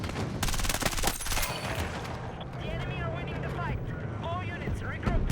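Gunfire and explosive blasts erupt in Battlefield 6 as rockets strike a tank, a dense rattling burst followed by rumbling impacts, with someone talking over the game action.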